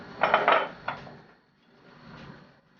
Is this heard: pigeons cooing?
no